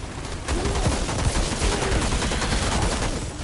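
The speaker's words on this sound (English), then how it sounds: "I thought I had my hand cannon selected." Hand cannon gunfire in the sci-fi shooter Outriders comes as a dense run of loud, rapid bursts of shots, one after another with barely a gap, over a constant roar of game noise.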